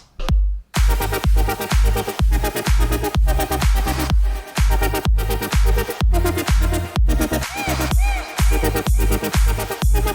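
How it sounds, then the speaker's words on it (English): An EDM drop built on a Nexus bass and booming 808 sub hits in a tight, driving rhythm of repeated loud pulses for about ten seconds, with no voices. "And then there was my favorite part of the track, which is the drop"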